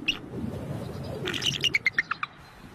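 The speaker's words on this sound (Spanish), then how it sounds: "La hembra está llamando al macho diciéndole," A female bald eagle calls to the male in snow, a quick descending series of about six sharp, high chirping notes after softer chatter, fairly close and clear.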